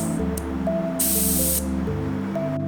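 Sharp burst of air hissing from the relief button on a shock pump for a ProShock Viber bicycle suspension, lasting about half a second against steady background music.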